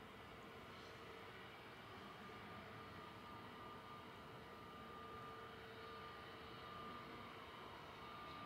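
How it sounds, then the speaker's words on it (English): An easyJet A320 airliner departs Manchester Airport for Lisbon, its engines giving a faint, distant, steady drone with a thin whine on top and no voices. "So this is EasyJet off to Lisbon, flight 6728"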